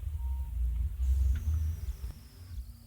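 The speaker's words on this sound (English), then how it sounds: "when the vehicle is being cranked" A Mercedes Sprinter common-rail diesel engine cranks with a low, uneven rumbling churn, pulsing through the first half and then fading, with a thin high electronic whine above it.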